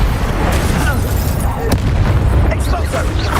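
Spell explosions from the Expulso charm in Hogwarts Legacy, a dense, continuous roar of magical blasts and booms mixed with game effects and battle noise, loud and sustained throughout with a sharp crack near the middle.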